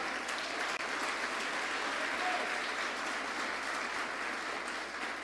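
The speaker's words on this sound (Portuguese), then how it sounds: "Você pode aplaudir ao Senhor por essa palavra?" A church congregation claps steadily in a sustained burst of applause that fills the room, dense and even throughout with no speech on top.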